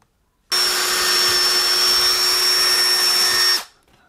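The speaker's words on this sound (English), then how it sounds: "So let's go ahead and drill that out." A power drill bores a hole for wires during a Pixelcade Dot sub-display installation, starting abruptly and running loud and steady with a high whine for about three seconds, then winding down and stopping.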